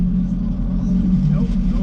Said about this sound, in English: The car's engine is blowing